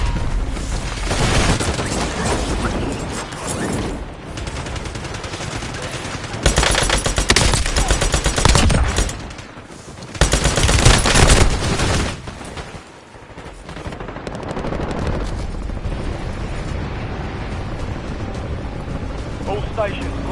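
Heavy gunfire in the Warzone video game, dense bursts and rapid automatic fire with booming blasts, loud and sustained with a brief lull midway before the barrage resumes; voices are heard through the action.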